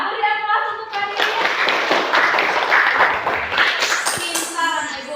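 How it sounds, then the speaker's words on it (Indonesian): Classroom applause for a student named Karin, a burst of many hands clapping together for a few seconds, preceded and followed by a teacher's voice talking. "beri aplaus untuk Karin"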